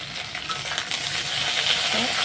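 Okra sizzles steadily in hot oil in a kadai, a continuous close crackling hiss with no talking.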